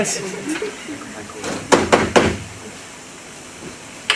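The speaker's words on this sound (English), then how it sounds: "That's a door, by the way, sorry." A door is knocked on several times in quick succession during a live stage play, loud and close, with performers talking before the knocks and one more knock after a pause.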